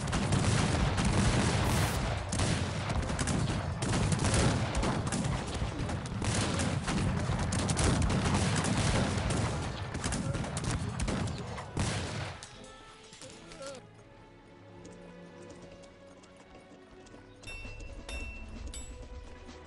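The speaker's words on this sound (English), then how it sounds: "My men are shooting the backs of the enemy." Dense musket volleys and battle noise in the Cossacks 3 real-time strategy game, loud and continuous for about twelve seconds before thinning into scattered distant shots and quieter ambient clatter.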